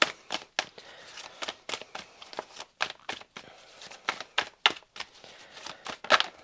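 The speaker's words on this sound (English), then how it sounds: "Shocking shuffling alert. Throwing them everywhere." Quick, crisp riffling and slapping of playing cards in rapid irregular bursts, close by.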